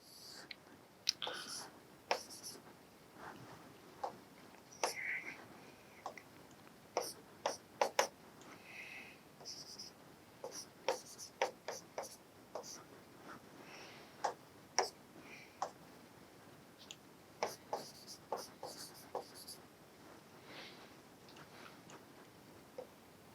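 Chalk or marker writing on a board during a maths lecture on definite integration, a series of faint, sharp ticking taps and strokes scattered irregularly through a quiet room.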